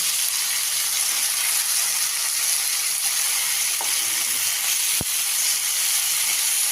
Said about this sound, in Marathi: खालची बाजू आहे ती पूर्णपणे चांगली भाजून घेऊया.